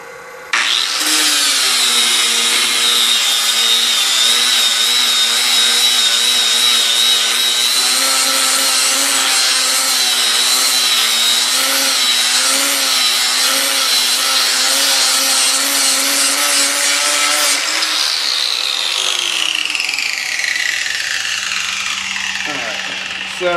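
An 80-grit power sander grinds on metal while a mushroom dolly is being shaped, giving a loud, steady high whine that runs for about seventeen seconds before winding down.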